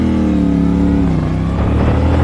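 A CFmoto CLC450 motorcycle engine drones loudly and continuously while riding, its pitch shifting slightly as the revs change, with no talking over it.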